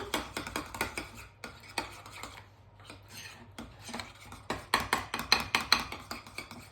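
A spoon stirs a sauce thinned with a little milk in a bowl, making quick, close scraping and light clinking strokes in an uneven rhythm, with no talking.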